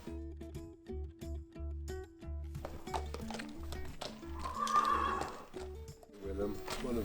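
A Shire horse in England neighs amid faint hoof clip-clops, with a low, muffled voice running underneath.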